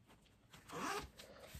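An invisible zipper on a freshly sewn garment being pulled open, a single short soft zip rising and fading over about a second, close and quiet.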